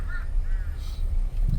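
Crows caw in short, hoarse calls, two drawn-out cries and then a third, fairly close over a low rumble of vehicle noise on a safari tour past the tiger enclosures at Everland.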